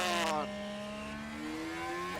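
In the F1 Manager 2023 racing game, a Formula 1 car engine holds a steady, high-pitched whine. A quick downshift or shift in pitch comes near the start, and the tone then rises slowly, moderately near with no one talking.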